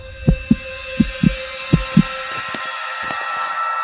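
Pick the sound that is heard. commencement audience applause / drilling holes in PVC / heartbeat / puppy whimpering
heartbeat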